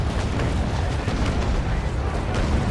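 Cannon broadside from a sailing warship in the naval combat game Naval Action, a continuous heavy rumbling roar of massed gunfire with low booming weight, loud and sustained without a break.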